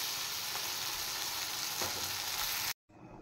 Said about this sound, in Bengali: আদা জিরে বাটা, লঙ্কা হলুদ যা দিতে হয়, আর টমেটো দিয়ে মশলাটা কষিয়ে নিচ্ছি।